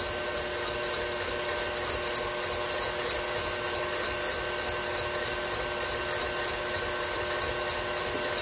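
An electric mixer whips egg whites for coquito cupcakes, a steady loud whirring drone that holds unchanged the whole time with no talk over it.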